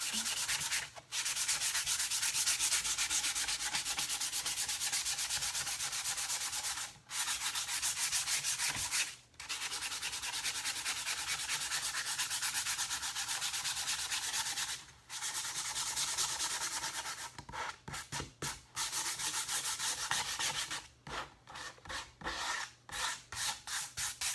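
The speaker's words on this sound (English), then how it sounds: "So I'm just gonna take this and I'm gonna sand across the top." Hand sanding across the top of a wooden sign gives long, loud, continuous close-up rasping strokes, broken by a few brief pauses and quicker choppy strokes near the end, with no voices.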